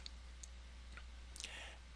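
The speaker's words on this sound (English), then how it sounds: "It's just a bunch of clicking" Computer mouse clicks during a Facebook greeter setup: a handful of faint, sharp, scattered clicks, with one brief cluster near the end, over a quiet low hum.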